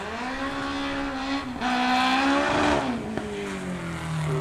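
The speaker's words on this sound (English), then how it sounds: "Love the noise out of these cars." A race car engine at a historic hillclimb sprint holds a loud, rising tone, with a gearshift dip near the middle, climbing hard again, then easing off as it pulls away.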